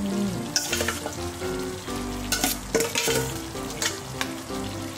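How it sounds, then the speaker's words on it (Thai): Fish balls stir-fried with green curry paste and kaffir lime leaves in a pan, sizzling steadily with repeated scraping stirs and clanks of the utensil against the pan, close and fairly loud. "นุ้ยจะใส่ตัวลูกชิ้นนะคะไปผัดกับเครื่องแกงก่อนนะ"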